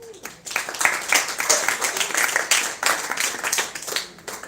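Audience at a film festival press conference breaks into clapping, a dense patter of many hands that rises quickly and keeps going steadily at moderate loudness for several seconds.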